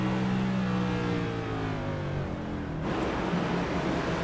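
A race car engine in a racing game holds a steady high drone that climbs and drops through revs, then shifts to a rougher, noisier tone partway through, loud and close with no talking.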